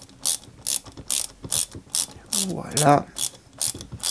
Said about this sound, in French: à l'intérieur ici on y met deux vis BM